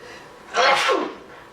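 One sharp, loud sneeze close by, a burst of breathy noise rising and then trailing off.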